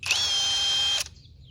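A Klutch brushless cordless drill spins at low speed with a steady high electric whine for about a second, then winds down quickly and stops.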